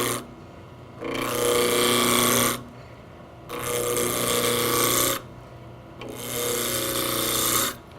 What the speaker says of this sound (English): Begin turning with a spindle roughing gouge, just roughing the end of the blank down to a cylinder.